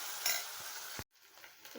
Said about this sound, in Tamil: இப்போது வெங்காயம் வதங்கிட்டுருக்குது நல்லா.